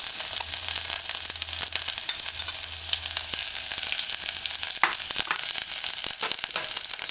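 Chopped onions sautéing over medium-low heat in a pan for a vegan mushroom tomato stew, a dense continuous sizzle and crackle close by, with occasional stirring scrapes and no talking.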